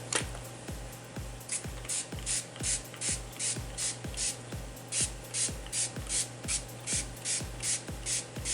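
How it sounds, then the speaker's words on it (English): A hand spray bottle of ink pumped onto the back of white paper for paper flowers, sounding as a long run of quick, evenly spaced squirting clicks, each a short hiss, close and alone. "I'm just going to go ahead and spray it on the back."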